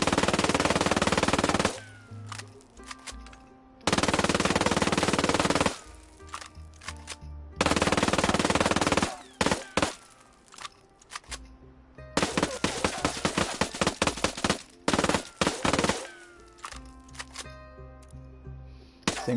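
A .45 caliber Vector submachine gun in a video game fires in several loud, very rapid bursts of varying length, separated by brief pauses with quieter clatter and game sounds.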